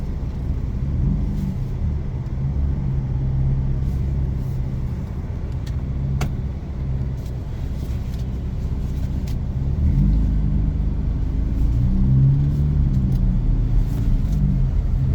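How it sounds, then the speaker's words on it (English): A car passes on a road, a steady low engine rumble and tire noise that swells toward the end as the vehicle draws near. "There's a car coming."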